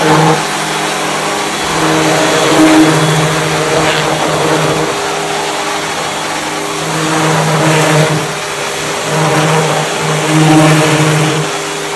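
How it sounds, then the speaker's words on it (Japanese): A Homd COOCHEER high-pressure washer runs steadily while washing a Ferrari, its motor humming continuously under a broad hiss of spray that rises and falls slightly in loudness, with no talking. "やっぱりこれ高圧洗浄機があると非常に便利です"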